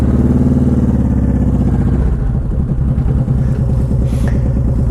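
A Honda VTX 1800 motorcycle with a hypercharger intake runs loud and close, its deep throbbing V-twin engine rumbling steadily and shifting in pulse as it starts to move, with no voices.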